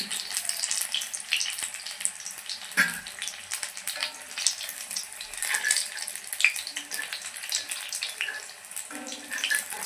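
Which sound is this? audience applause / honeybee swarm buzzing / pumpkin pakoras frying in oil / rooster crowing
pumpkin pakoras frying in oil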